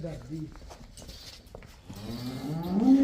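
A cow lets out a low, rising moo near the end, following quieter shuffling and faint voices nearby.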